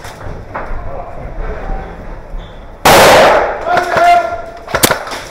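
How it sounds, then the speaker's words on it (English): An airsoft grenade goes off during a game, a single sharp, loud bang with a quick decay. Players' voices and shouting surround it before and after. "Grenade!"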